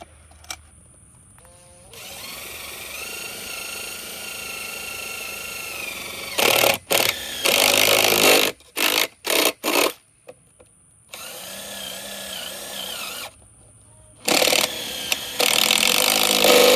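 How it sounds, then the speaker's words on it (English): A power drill boring a series of holes, with repeated bursts of loud whining motor and cutting noise separated by short pauses and quieter idle stretches, close up with no talking. "Let me drill some holes all around this thing."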